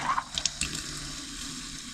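Hot water running from a tap at an off-grid cabin, a soft steady splashing flow after a few small clinks at the start, quiet and close with no talk.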